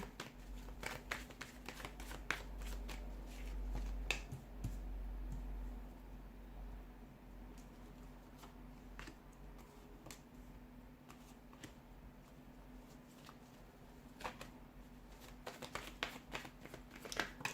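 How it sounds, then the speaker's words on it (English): Quiet, close riffling and slapping of tarot cards being shuffled, in repeated short bursts over a low steady hum, with no talking. "give the cards a shuffle"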